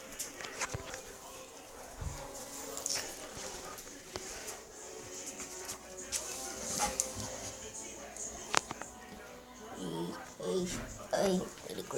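A dog whimpers and gives short yips in a room, faint high cries scattered through a steady background, with a few louder yelps near the end.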